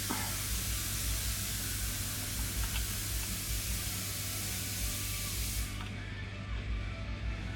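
Oil sprays onto differential parts during a failed differential housing rebuild on an F350, a continuous close hissing spray with a low steady hum underneath that cuts off near the end, without speech.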